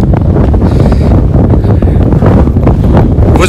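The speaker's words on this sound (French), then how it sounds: "Vous entendez un peu le bruit de ce vent là" Strong wind on a hilltop near wind turbines roars and buffets hard against the microphone, loud, rumbling and continuous for the few seconds with no speech.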